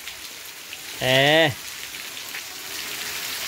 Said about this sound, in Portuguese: uma bela chuva está caindo aqui no distrito de Amanhutuba